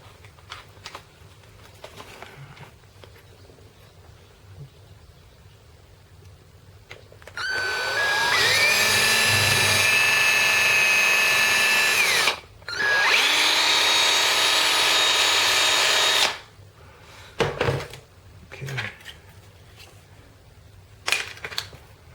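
A power drill with a small bit whirs loudly in two long bursts with a brief pause between, its pitch steady, followed by a few short clicks and handling knocks.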